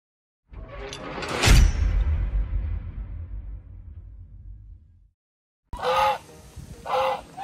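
Geese on sale at a poultry market honk loudly and close by, one long harsh call fading out, then after a short silence two more sharp honks in quick succession.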